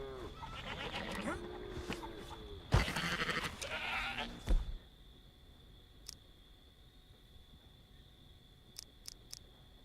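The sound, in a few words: goats bleating in the video game Red Dead Online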